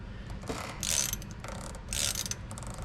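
Slack adjuster on the front brakes of an International 4300 truck cranked by hand, giving a few close metallic ratcheting bursts in uneven succession against a low background hum.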